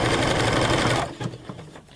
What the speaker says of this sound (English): you can see as I'm sewing and stretching the fabric out, it creates this nice curl